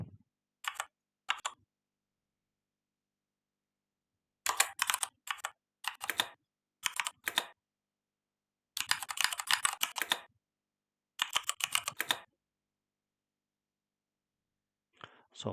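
Short bursts of typing on a computer keyboard, crisp nearby key clicks in separate clusters broken by stretches of silence, with no talking.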